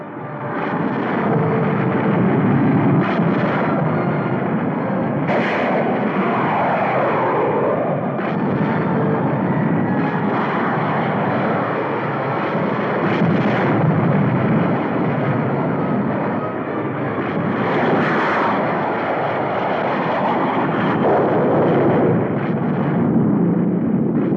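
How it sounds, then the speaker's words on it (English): Enemy jet aircraft attack a dam amid a dense, continuous wall of explosions and roaring engines, loud and sustained throughout with shifting bursts and no talking. "Enemy jets approaching Boulder Dam."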